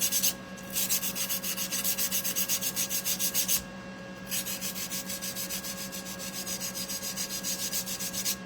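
Repeated back-and-forth strokes of wax-clogged sandpaper rubbing over wood, a steady rasping rhythm with a brief pause partway through, close and fairly loud, no voices.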